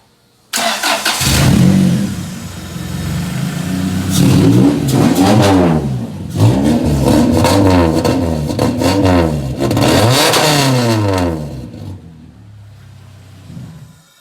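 Rebuilt engine of a fifth-generation Honda Prelude starts and revs in several rising and falling pulls, loud and close, with a mechanical clatter underneath and no talking.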